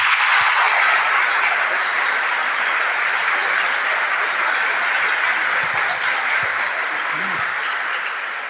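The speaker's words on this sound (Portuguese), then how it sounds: "Aplaudamos a palavra de Deus." Congregation applauding during a Sunday evening Catholic Mass, a steady wash of many hands clapping that fills the church at full strength, then eases slightly toward the end.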